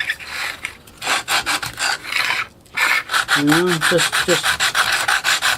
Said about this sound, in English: And, deburr the edge.